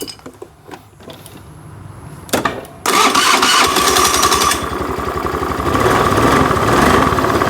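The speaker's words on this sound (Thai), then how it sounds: "คือรถสตาร์ตติดนะครับ" A Honda Scoopy i scooter with a dashboard warning light showing cranks and fires up after a few seconds of quiet clicks, then settles into a loud, steady idle that runs close by to the end.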